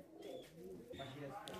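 A pair of American Bukhara pigeons, a nesting running pair in a fancy pigeon loft, gives a low, steady cooing murmur that runs close and continuous for the whole short stretch.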